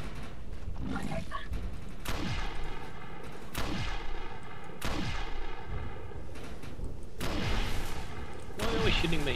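Gunfire in the co-op shooter ChaosNova, with several heavy shots and bursts recurring every second or so amid a dense battle din while players talk over it.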